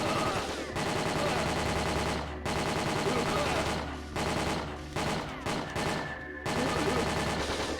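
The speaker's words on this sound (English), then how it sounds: "we're just gonna get in this turret, start firing" A machine gun turret firing in the Winback: Covert Operations video game, with loud bursts of rapid automatic fire broken by short pauses and a few scattered single shots.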